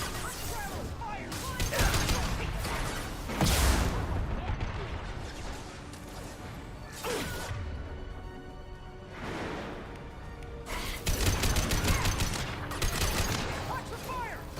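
Gunfire from the video game Mass Effect 2: dense bursts of shots and booming impacts come in waves, loud and close, with shouted voices mixed through the battle.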